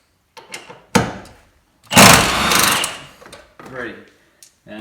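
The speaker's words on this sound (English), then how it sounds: "I'm going to take the impact gun here" An impact gun driving out dashboard bolts on a 2008 truck with a 6.4 engine: a few sharp clicks and knocks, then one loud, sustained rattling whir lasting over a second, followed by lighter tool and handling noises nearby.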